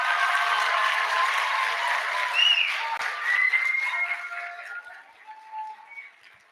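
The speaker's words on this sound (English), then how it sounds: "So can we give like our staff a round of applause" An audience at a school gathering applauds its staff, steady clapping that holds strong and then slowly thins and fades toward the end.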